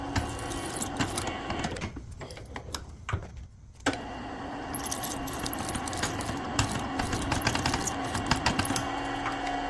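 A drill spins a reverse extractor bit at high speed to back a broken bolt out of an engine cylinder head, a busy whirring and rattling with a short pause in the middle before the drilling resumes steadily.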